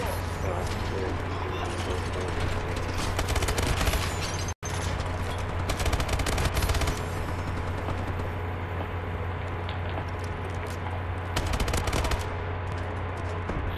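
Dense, rapid gunfire and clattering mechanical noise from a video game shotgun fight run loud and nearly continuous, with one brief dropout midway.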